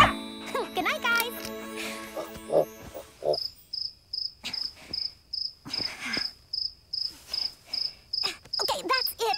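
A cartoon cricket chirps at night in a children's animated show, a run of sharp, evenly spaced high chirps that repeat in a steady rhythm after an earlier stretch of child-like speech.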